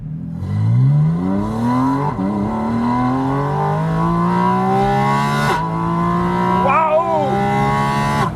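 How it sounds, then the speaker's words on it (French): A Porsche Spyder RS sports car engine revs hard and climbs through the gears, each rising pitch sweep cut by a brief shift, loud and close throughout with no speech. "vous pouvez entendre, c'est assez bruyant comme voiture."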